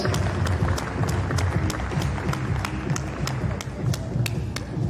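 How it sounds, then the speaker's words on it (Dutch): Audience applauding after a wheelchair tennis doubles final at the 2023 ABN AMRO Open, a steady dense wash of clapping with sharp individual claps standing out, sustained throughout at moderate loudness with no voices over it. "Dames en heren, laat u nog één keer horen van Martín de la Puente en Gustavo Fernández"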